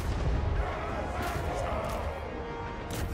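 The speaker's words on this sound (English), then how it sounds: "Flame cannon!" Dwarf flame cannon artillery in a Warhammer battle game booms and roars in dense, crashing bursts amid continuous loud battle noise.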